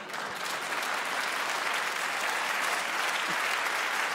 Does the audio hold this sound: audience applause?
yes